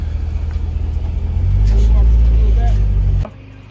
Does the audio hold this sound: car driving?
yes